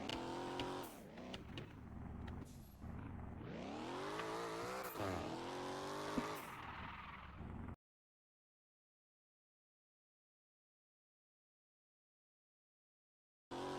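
A V8 car in a video game cruises down a highway, its engine revving up through rising and falling gear pulls with a steady roar, then cutting abruptly to silence.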